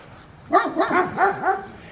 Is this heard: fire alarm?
no